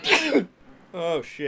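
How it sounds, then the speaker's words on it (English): A brief sneeze bursts out near the start, followed by a pause and then people talking. "that was a rather feminine sneeze there"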